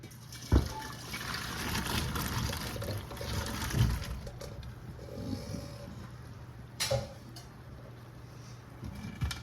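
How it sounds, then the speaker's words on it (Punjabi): Water from boiled pasta drains through a strainer, a steady low gushing trickle with a few louder splashes near the start and around the middle, alone without talk. "ਹੁਣ ਆਪਾਂ ਇਹਨੂੰ ਸਟੈਨਰ ਦੇ ਵਿੱਚ ਪਾ ਕੇ ਤੇ ਇਹਦਾ ਪਾਣੀ"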